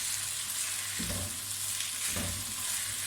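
Potatoes and okra fry in a pan for an aloo bhindi dish, a steady loud sizzle with two brief bursts of stirring, close up and without any talk.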